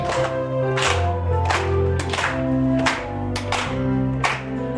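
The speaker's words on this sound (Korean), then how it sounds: "박수 치시면서 한번 부르십시다." A church congregation claps in a steady rhythm while singing a hymn together, sharp hand claps sounding over the sustained sung voices and accompaniment.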